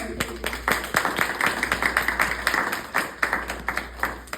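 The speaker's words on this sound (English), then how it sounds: "You guys give her a hand clap for her." Scattered audience clapping at a mental health event, fairly close and moderate, with overlapping talk and voices running through it.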